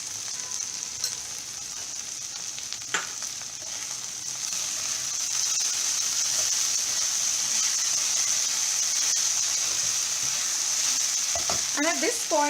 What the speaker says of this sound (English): this has to be done on a medium flame because we have to fry our bhendi very well